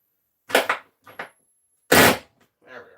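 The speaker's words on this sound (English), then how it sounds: "I do apologize for the noise, but I'm just over torquing this a little bit" A wrench cranks a bolt past its seating torque in a woodshed, giving a few sharp, loud ratcheting cracks and clacks in short bursts separated by silence.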